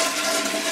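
Toilet flushing: a loud, close rush of swirling water filling the whole short moment, with no talk over it.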